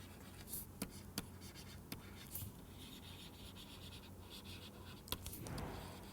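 Chalk or marker writing on a board during a math lecture, heard as scattered short scratchy strokes and taps, fairly close and fairly quiet, with no talk over them.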